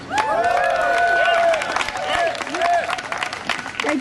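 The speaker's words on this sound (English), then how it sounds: "Give them another round of applause." A crowd at a street protest against a police station breaks into clapping and cheers that go on steadily throughout, with a few voices calling out over the applause.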